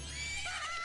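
Epona, Link's horse in the video game Zelda: Majora's Mask, gives a short, close whinny that rises over a steady game backdrop and ends within a second.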